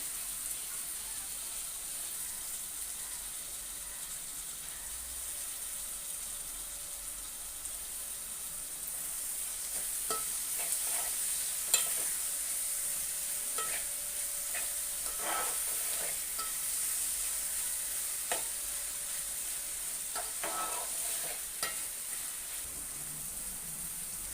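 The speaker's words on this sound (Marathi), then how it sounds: "टोमॅटो आणि कांदा चांगला तेलामध्ये परतून घ्यायचा" Chopped tomatoes and onion fry in oil for a spicy dry small-fish dish, a steady close sizzle with occasional stirring scrapes and clinks in the middle stretch.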